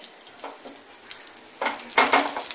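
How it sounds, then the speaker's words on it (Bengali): Oil heats in a hot saucepan for egg patishapta, giving a close, crackling sizzle that starts light and turns denser and louder toward the end, with faint metallic clinks of utensils and no speech. "এবারে আমি আবার সসপ্যানটা তাপিয়ে দিলাম, এর মধ্যে তেল দিয়ে দিচ্ছি"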